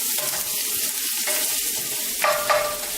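Thyme being stirred into a sizzling mixture in a pan for a creamy mushroom and chicken pasta, with a steady fry hiss and a few soft scraping strokes, louder near the end, no talk.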